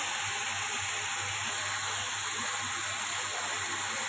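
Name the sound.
potatoes frying in a pan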